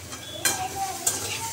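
Bitter gourd stir-frying in an uncovered pan, a steady sizzle with two sharp scrapes of the spoon against the pan midway through.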